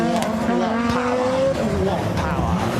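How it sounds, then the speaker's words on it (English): A rally car with a big 5-cylinder engine of about 500 horsepower races along a forest stage, its loud engine note rising and shifting steadily throughout while a commentator talks over it. "That's sort of 500 brake horsepower on that big 5-cylinder engine. Just fantastic noise."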